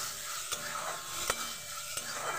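Dried loitta fish paste with dried chili and garlic stir-fried in a pan, a steady sizzle broken by three sharp spatula scrapes at even intervals, close and fairly loud with no talking.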